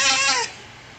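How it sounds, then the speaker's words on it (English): A cat gives one loud, drawn-out, yowling meow up close, with harmonics rising and falling, and it cuts off abruptly into quiet room noise. "That is a loud cat."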